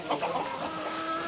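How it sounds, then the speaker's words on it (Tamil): Chickens clucking on a large village farm, a steady busy run of close, moderately loud bird calls with no talk over them. "நல்ல பெரிய சேவல்கள் நிற்கிது."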